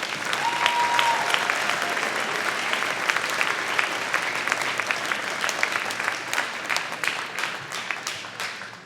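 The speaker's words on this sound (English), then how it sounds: "So let's give all the parents a big round of applause." Sustained applause from a school concert audience honouring parents, many hands clapping steadily in a large hall, dense and moderately distant, fading slightly toward the end with a brief faint tone near the start.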